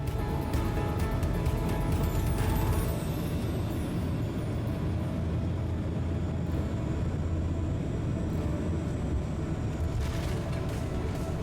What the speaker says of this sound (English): I'll let you hear the engines and the tyres going